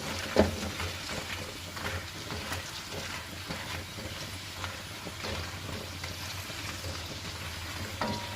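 Hollow meatballs (bakso goreng) deep-fry in hot oil, a soft, steady bubbling sizzle with occasional light pops and clinks, faint and close throughout.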